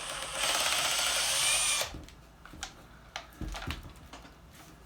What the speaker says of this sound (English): That's that tick, tick, tick. That's that hydraulic hammer working